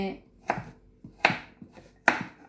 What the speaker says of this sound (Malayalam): നമ്മുടെ ചേനയൊക്കെ ഇങ്ങനെ ഒന്ന് അരിഞ്ഞെടുക്കാം